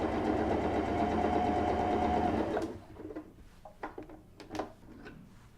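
A Baby Lock Anna sewing machine stitches a blind hem on a test piece of fabric, running in a close, steady whir for a couple of seconds before stopping. Scattered light clicks and handling noises follow.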